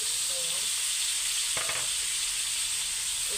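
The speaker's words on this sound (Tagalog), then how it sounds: "Igisa natin ang kamatis." Tomatoes sauté in a hot pan with a dense, steady sizzle close up, broken by a brief stirring scrape partway through.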